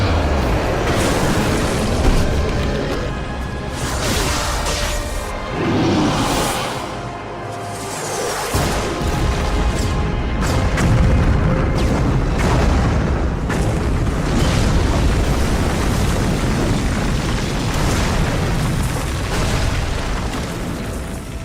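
Explosion sound effect from Smallville, recycled from the episode Justice: a dense, loud stretch of booming blasts and whooshing rumble with heavy low-end roar, shifting in texture but continuous throughout, with no talk over it.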